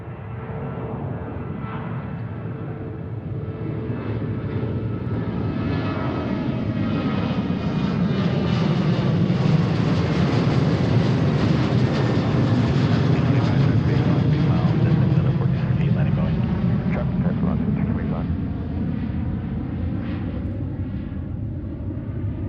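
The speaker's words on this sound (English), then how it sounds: "There's our first takeoff." A Horizon airliner takes off at Seattle airport, its loud engine roar swelling as it passes close, peaking midway, then slowly fading with a rumbling, shifting tone as it climbs away.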